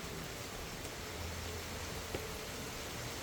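Steady rain hiss on a hut, a soft even wash of falling drops with no voices, holding constant throughout.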